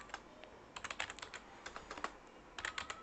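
Bursts of keystrokes on a computer keyboard as code is typed into a text editor, close and clear, in quick clusters with short pauses and no talking.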